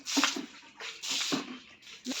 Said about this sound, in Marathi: अंगण हे स्वच्छ झाडून आणि त्या अंगणामध्ये पाणी टाकून ती सुरुवात होते